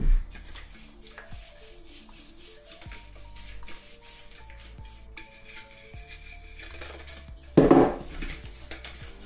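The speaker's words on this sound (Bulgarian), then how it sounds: "Във формичката взимаме и се я намазваме." Oil is smeared around a Teflon baking tin with soft, continuous rubbing and scraping, quiet and close, with a louder clatter of the tin near the end.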